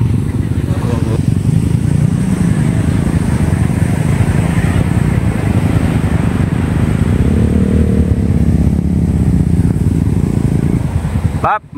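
A motorcycle rides slowly along a slippery seashore path in Mindoro, its engine a steady low rumble that stays close throughout, with people talking over it.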